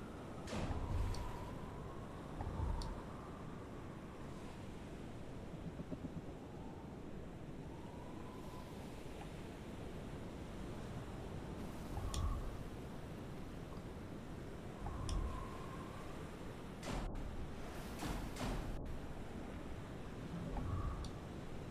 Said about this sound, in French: Là les vagues, mon pote, laisse tomber.